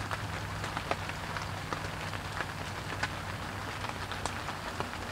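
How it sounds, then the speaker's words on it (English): Steady rain falling outside a shelter during an overnight camping trip, a dense even hiss with scattered drops tapping close by. "Oh man, you guys can hear the rain now. It's coming down pretty good."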